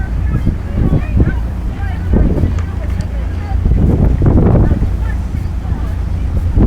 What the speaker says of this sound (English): Just a consistent, strong headwind here.